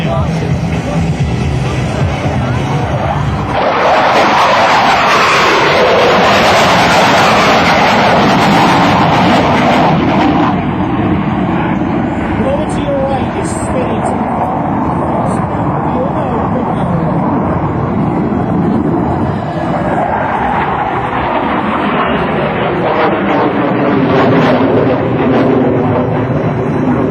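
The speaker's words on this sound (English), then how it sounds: "As each aircraft crosses show center, they'll be doing a tactical speed of over 450 miles an hour." Starfighter jet aircraft making a high-speed pass at a military open house air show, a loud continuous roar that swells and fades across the whole stretch, with crowd and announcer noise mixed beneath.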